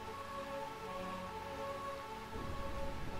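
Steady rain falls in the rainy realm of Bemacia in Final Fantasy IX, a constant soft wash with tonal game music drifting beneath and a denser, louder patter swelling near the end.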